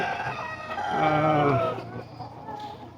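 Chickens clucking with a rooster's crow rising in the middle, fairly close, over a busy outdoor background.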